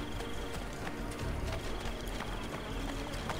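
Rapid hoof clip-clops from a horse in Assassin's Creed Brotherhood, moving at a steady pace over a hard city surface, with constant background ambience and no talking.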